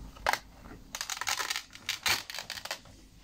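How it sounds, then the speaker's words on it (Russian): A velcro fastener is pulled open on a Skrepyshi toy gift set, giving a series of close, crackling rips in short bursts with brief pauses between them. "Тут липучка у нас."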